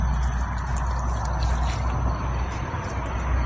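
Hot water pours onto the wheel hub and brake caliper of an E-350 cutaway truck, a steady splashing trickle over a low outdoor rumble, close and fairly loud, with no speech.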